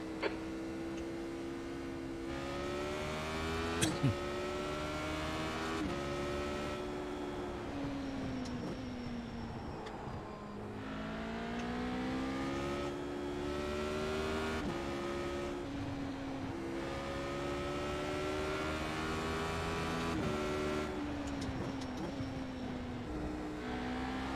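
A race car engine in the iRacing simulator revs and drones steadily, its pitch climbing and dropping repeatedly through gear changes over about twenty-four seconds, loud and continuous with no talking.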